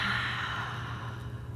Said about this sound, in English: A small thing you could do would be deep breathing.